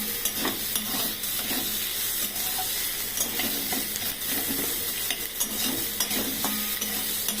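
Onions frying in oil with salt, stirred with a spatula, giving a loud, steady sizzle with repeated scraping strokes close by and no voices.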